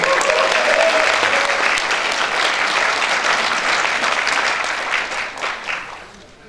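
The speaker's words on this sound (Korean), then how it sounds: "큰 박수로 맞아주시기 바랍니다" A big hall full of young party members at a rally claps loudly to welcome a speaker, with thick sustained applause for about five seconds that then tapers off.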